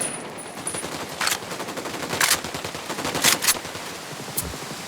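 Bursts of gunfire in the video game Ghost Recon Wildlands, several separate volleys of automatic weapon fire at mid distance over a steady noisy background, with no talking.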